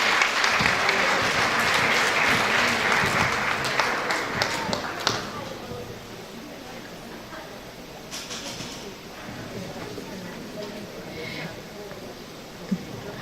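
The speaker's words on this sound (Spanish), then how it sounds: "Le despedimos con un fuerte aplauso" Audience applause at a nursing lecture ceremony in Tacna, Peru, loud dense clapping for about five seconds that fades into quieter room noise with scattered claps.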